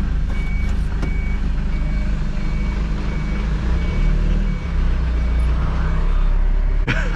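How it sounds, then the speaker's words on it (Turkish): A Mitsubishi Canter light truck in reverse gear sounds a steady series of high reversing beeps at an even pace. The beeps ride over a constant engine idle and cab rumble, heard from inside the cab. "Zaten hemen bipleme başladı."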